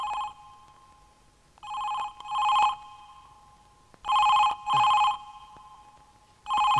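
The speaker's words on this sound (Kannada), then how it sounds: "ಯಾರಾದ್ರೂ ಫೋನ್ ತಗೊಳ್ಳಿ." A telephone rings in a Kannada romantic psychological thriller film scene: loud, close double-ring bursts repeat in an even rhythm with short silent gaps, and no voices are heard over them.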